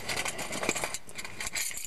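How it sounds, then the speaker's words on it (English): Car keys jangle in a metallic clatter while being handled during a car stereo replacement, with a few brighter rattles over close, steady movement. "get my keys into the accessory position."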